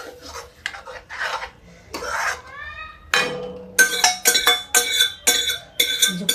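A spoon scrapes rhythmically around a cooking pot of black urad dal sagpahita, making repeated loud rasping strokes close by after a brief stretch of talking at the start.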